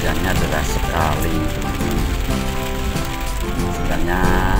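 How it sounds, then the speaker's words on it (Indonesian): Heavy rain pounds steadily throughout on the way to Bromo, a dense, loud wash of noise with some vehicle and background sounds mixed in. "ternyata hujannya deras sekali"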